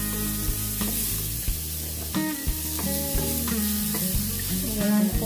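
Onion, garlic and ginger sauté in a pan for a fish curry, a steady sizzle with scraping stirs and occasional clinks of a utensil against the pan, close and unobscured.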